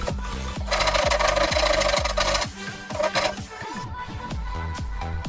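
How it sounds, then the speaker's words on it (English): A hand saw cutting through the old wood of a discarded Indonesian chest, close and fairly loud, with rapid rhythmic back-and-forth strokes, a brief pause, then sawing resumes. "Sawing old things like this seems really wrong, but it's going to make it so much stronger"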